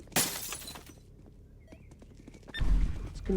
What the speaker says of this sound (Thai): เราร่วมกันระเบิดบาเล่นะเพื่อน